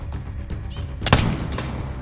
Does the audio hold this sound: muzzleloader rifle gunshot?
yes